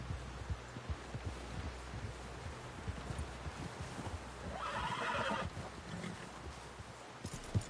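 A horse whinnies briefly amid a busy wash of hoofbeats and rustling, with faint shouting voices in the background of a lively outdoor scene in the video game Red Dead Redemption 2.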